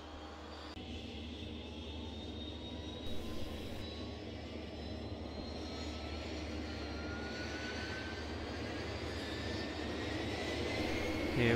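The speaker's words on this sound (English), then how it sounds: "Start the engines, let's get underway." Dash 7 turboprop engines spinning up in a flight simulator, a steady broadband roar with rising whine tones that slowly grows louder, no voices.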